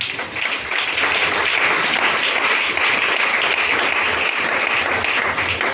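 A church congregation applauding together in sustained, dense clapping that rises quickly and stays loud and even to the end.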